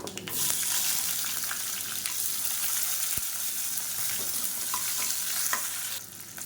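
Whole onions, one large and about seven small shallots, frying in a pan of hot oil for a Tamil kuzhambu, with a steady close sizzle and occasional stirring scrapes throughout.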